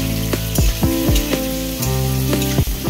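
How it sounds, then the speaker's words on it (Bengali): Boiled ghati kochu taro pieces frying with whole cumin tempering in a pan, a steady close sizzle with occasional stirring scrapes, over gliding background music. "সেদ্ধ করা ঘাটি কচুগুলোকে ফোড়নের সাথে মিশিয়ে কিছু সময় ধরে ভেজে নেব।"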